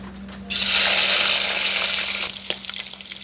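Small shrimp hit hot oil with dried red chillies in a pan and burst into a loud, sudden, hissing sizzle that holds steady, then eases slightly with a few crackles.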